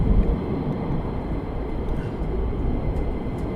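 An aircraft on approach inbound to RAF Mildenhall, a steady low rumbling engine roar heard from some distance, constant and unbroken with no voices.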